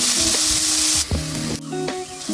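Crushed ginger fries in a pan with a loud, bright sizzle, broken by sharp scraping stirs of a spoon against the metal that leave the frying hiss quieter afterward.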